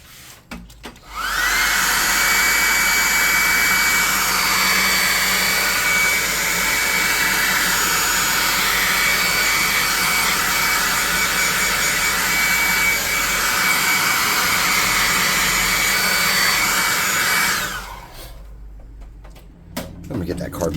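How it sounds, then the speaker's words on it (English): A hot air gun drying paint on a custom fey tabletop miniature, its steady, loud blowing roar running for about sixteen seconds before cutting off abruptly. "I'm going to hit him with a +2 hot air gun of burning and dry some of this up"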